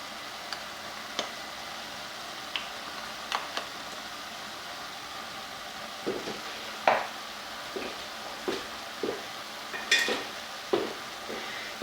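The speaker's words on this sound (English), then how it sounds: "put in a tablespoon of the Chinese 5-spice. And 2 tablespoons of the turmeric." Chinese five-spice and turmeric frying in a pot, giving a faint steady sizzle with scattered clicks and scraping taps of stirring that come closer together in the second half.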